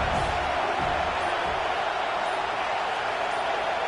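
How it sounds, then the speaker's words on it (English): Crowd noise at a USC football stadium, a dense, steady roar of many voices from a distance without clear peaks, under faint commentary. "This crowd ready to make its presence known."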